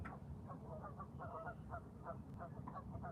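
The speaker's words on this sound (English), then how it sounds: "The geese just going crazy at each other." Geese honk repeatedly on open water in Ohio, a busy overlapping chorus of calls over a steady low background rumble, fairly faint and distant.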